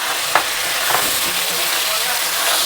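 Potatoes already fried in a pan sizzle steadily as tomato and spices are added and stirred, with a continuous hiss and a few brief scraping clatters.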